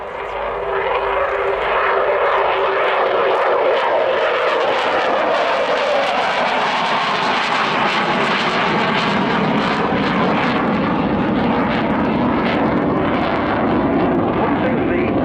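A Sukhoi Su-27 fighter jet performs an airshow flying display at RIAT, its loud, continuous engine roar building as it passes close, with a broad rumbling wash and no speech over it.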